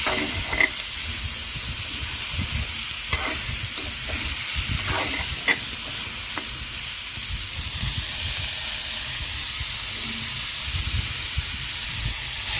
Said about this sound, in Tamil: வெட்டி வைத்துள்ள மீனை அதனை சேர்த்து நன்றாக கிளறிவிடுதல்